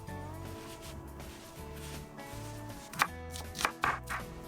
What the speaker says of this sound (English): Now I'm just gonna go ahead and mince up my onion.